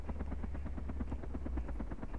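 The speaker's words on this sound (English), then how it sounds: "I thought this would have been a larger helicopter, but it's just a gyro or a Mozzie" A small gyrocopter or Mozzie helicopter flying in the DayZ video game, giving a steady, continuous rotor chop with rapid regular pulses, fairly near and unbroken, with no voices over it.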